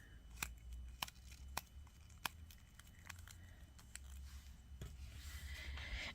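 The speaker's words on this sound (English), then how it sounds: "let's cut this wire right here and put the rest of our SoftFlex away" SoftFlex beading wire cut while making a purple rose anklet: a sparse series of small, sharp clicks, close and quiet, spaced irregularly against a faint room hiss with no voice.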